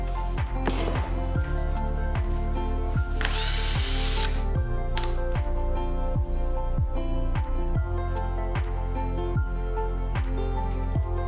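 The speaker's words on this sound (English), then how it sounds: "then drill all the holes with size 6mm" Power drill boring 6mm holes through a metal hinge from an old miter slide, a steady close whirring whine with repeated sharp rhythmic clicking throughout and a burst of harsh grinding midway.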